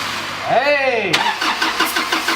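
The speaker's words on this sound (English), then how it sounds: "There she starts." A Toyota Bundera 4WD at Swan Gully 4WD Park cranks with a rising whine, then its engine catches with a sharp burst about halfway through and settles into a close, rhythmic idle.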